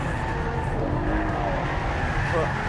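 A Ferrari FF drifting with oversteer makes a sustained tyre squeal and scrub over a loud, close engine roar, a continuous rasping smear of rubber lasting a few seconds.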